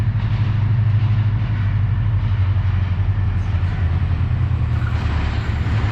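The Hazara Express, running between Karachi and Havelian, approaches with a loud, steady low rumble of wheels and engine that holds unbroken throughout, with no voices over it.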